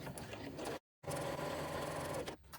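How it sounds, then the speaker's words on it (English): A sewing machine runs top stitching along fabric in two steady motor bursts with a brief pause between them, close and fairly quiet, with no speech. "And sewing back down this way."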